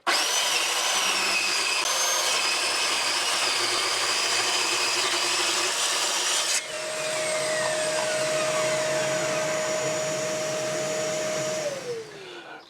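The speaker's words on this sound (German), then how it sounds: "Ich habe mir jetzt hier eine Schiene festgemacht und dann schneiden wir das mal mit der Tauchsäge." A plunge saw runs along a guide rail cutting wood, a loud continuous whine that shifts pitch midway and holds a steady tone before winding down at the end.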